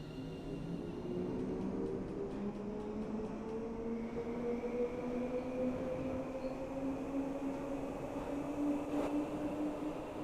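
A Class 710 electric train runs on rails in Train Sim World 5, a steady rumbling roll with a rising motor whine and a faint repeated ticking early on, continuous and fairly close.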